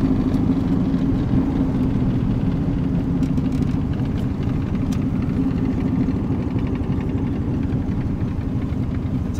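A 1965 Chevrolet Corvette resto-mod rumbles steadily on the move, a low, continuous engine drone with road and wind noise, loud and close, with no talking.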